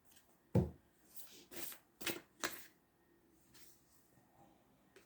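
Oracle cards shuffled by hand, a few soft riffling flicks and taps close by in a quiet room, brief and fairly faint.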